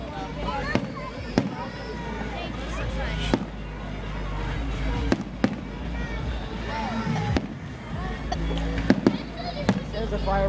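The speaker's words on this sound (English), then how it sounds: "This is the fireworks for faces." Fourth of July fireworks pop and bang at irregular intervals, sharp cracks over a crowd murmur, with people talking and exclaiming nearby.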